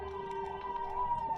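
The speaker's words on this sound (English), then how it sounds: "what is going on with the sirens?" An emergency vehicle siren sounds faintly in a steady tone with a slight warble that holds through the short moment. No voices can be heard over it.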